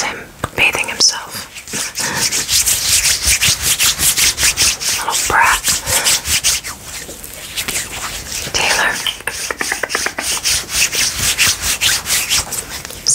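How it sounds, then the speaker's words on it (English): Close, rhythmic licking and rasping strokes as a cat grooms itself, quick repeated wet scrapes continuing steadily with brief pauses. "My cat's over there giving himself a bath"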